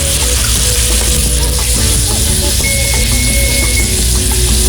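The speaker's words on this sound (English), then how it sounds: "I've got a couple tablespoons of bacon fat, heated up and ready to go, and I'm gonna throw in the shrimp" Shrimp sizzling in a couple tablespoons of hot bacon fat, lightly salted and dusted with hot paprika, a loud steady spitting fry close up with no talking.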